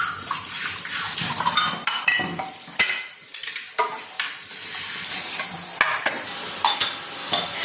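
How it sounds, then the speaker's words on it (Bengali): Chicken frying in a pan sizzles steadily nearby while a spatula scrapes and clinks against the metal in irregular strokes, with sharp utensil knocks scattered throughout. "চিকেনটা ফ্রাই হয়ে গেছে"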